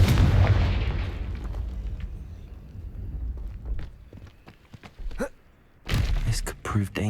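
A Confringo fire spell blasts in the Hogwarts Legacy video game with a heavy booming explosion that rumbles and fades, followed by sharp impacts, thuds and footstep-like knocks.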